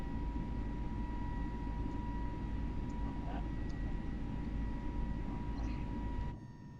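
Steady engine drone of a simulated aircraft in a flight simulator game during a group landing challenge at Gibraltar, a continuous broadband hum with a faint tone, constant and close, cutting off near the end.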